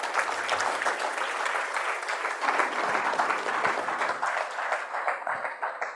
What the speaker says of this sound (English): Mr. Muhuza, that round of applause was yours, eh?